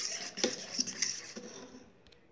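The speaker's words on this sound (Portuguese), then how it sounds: "Então, eu vou misturar aqui." A spoon stirs tapioca batter with salt in a bowl, giving close, quick scraping and light clinking strokes that fade out after about two seconds.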